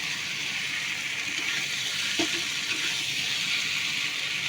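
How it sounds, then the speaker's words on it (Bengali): Pointed gourd frying in a pan with a continuous broad hiss of sizzling oil and a faint stir or two, steady and close. "পটলটা দিয়ে দেবো ভালো করে মিশিয়ে নিই"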